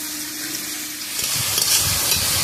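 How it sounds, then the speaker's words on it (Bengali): Carrots frying in hot oil and ghee: a loud, bright sizzle with crackling pops swells partway through and continues steadily, with no talking. "তেল ঘি গরম হয়ে গেছে এবার আমি গাজরগুলো ভালোভাবে ভেজে তুলে নেব"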